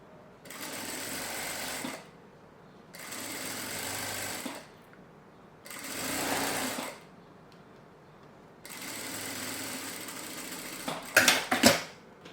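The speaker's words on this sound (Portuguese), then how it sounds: "vou passar uma costura com margem de meio centímetro" A sewing machine stitches bias binding onto fabric for a notebook case in four separate bursts of steady whirring, each lasting one to two seconds, separated by pauses, followed by a few sharp clicks at the end.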